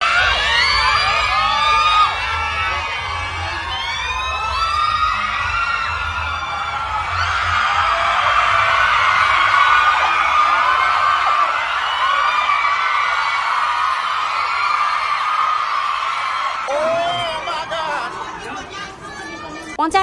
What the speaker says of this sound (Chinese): 尖叫声响彻云霄。